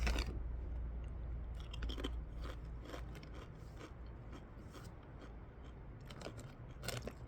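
Thick-cut Guinness rich chili potato chips crunch steadily in a close mouth, with continuous chewing and irregular louder crackles throughout and no talk.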